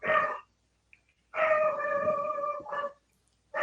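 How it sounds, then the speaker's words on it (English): A dog named Shorty gives a short whining yelp, then one long drawn-out howling cry and a brief final yelp. It is fairly clear, with silent gaps between the calls and no talking. "What's he barking at?"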